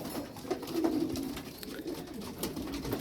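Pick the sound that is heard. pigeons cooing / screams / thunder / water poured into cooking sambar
pigeons cooing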